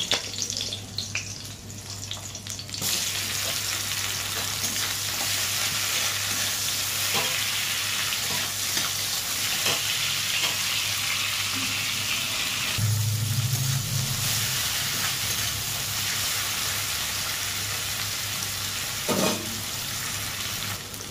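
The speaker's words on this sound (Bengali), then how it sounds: "তো প্রথমে কাঁচা লঙ্কাটা দিয়ে নিচ্ছি আমি, এরপর দিয়ে নেব কুচনো পেঁয়াজটা।" Chopped onion and green chilli fry in a pan for a lote fish dish, producing a loud, continuous sizzle with occasional stirring clatter and a brief watery gurgle midway.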